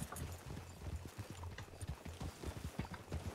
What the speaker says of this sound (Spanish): Mucho caballo, mucho ruido.